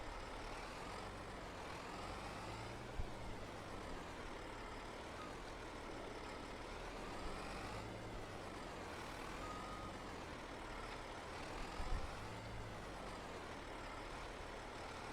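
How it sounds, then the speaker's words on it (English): A Kenworth truck engine idles steadily in Farming Simulator 22, a continuous low drone with a faint beep and small clicks over it. "So let's get the Kenworth going."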